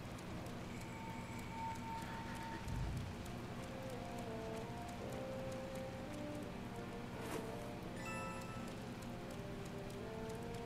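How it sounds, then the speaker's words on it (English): Steady video game rain patters softly on a surface, with occasional chimes and tones over it and a brief low thump early on. "Oh, it's raining."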